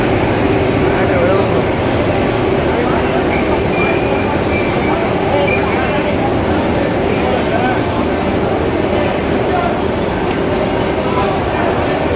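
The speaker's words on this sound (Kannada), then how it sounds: "ಟ್ರೈನ್ ಬಂತೆ." A train pulls in at platform four or five of an Indian railway station, on a Hubli to Delhi Hazrat Nizamuddin journey. A steady, loud rumble of wheels and carriages fills the whole stretch, with faint voices mixed into the station din.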